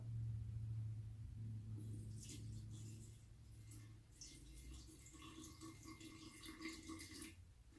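Water, 100 ml for a sourdough loaf, pours into a container on a kitchen scale, a soft trickling splash over a low rumble that continues for several seconds before tapering off.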